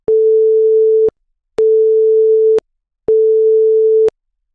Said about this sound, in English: After the green button has been pressed, a warning will sound for about 5 seconds.